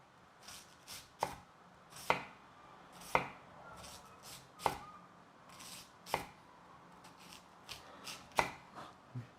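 A knife slices large onions thinly into rings on a board, giving a close, sharp chop every second or so amid a faint room hiss, with no talking.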